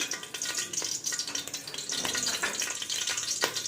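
Pieces of young jackfruit fry in hot oil, a busy crackling sizzle with small pops and scraping, steady and fairly close with no talking.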